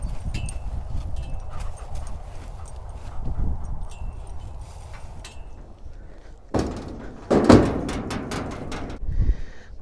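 Slow, irregular hoof clops of a walking horse over a low outdoor background, with a few sharper knocks and thuds near the end.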